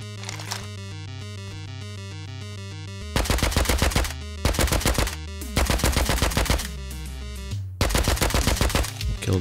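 AK rifle fire in the survival game Rust comes in several loud, rapid bursts separated by short pauses, over a steady tonal background from the game.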